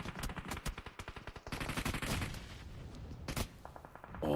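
Rapid gunfire in a PUBG Mobile esports match, a quick burst of evenly spaced shots up front followed by dense mixed game noise, more sharp cracks and a final loud burst, all without talk.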